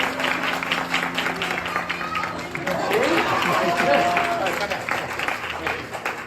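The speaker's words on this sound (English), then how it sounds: "Give Victor a big clap again." An audience applauds a juggler named Victor at a kids' show, a steady burst of clapping mixed with crowd chatter and voices throughout.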